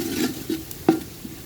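Spice masala for chicken biryani, with fried onions, cooks in a pan and is stirred: a low sizzle broken by a few separate scraping and knocking strokes, one sharper clack near the middle.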